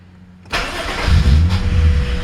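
An Acura Legend with an electrical problem cranks and fires up, a sudden burst of engine noise at half a second that settles into a loud, steady idle, recorded close by.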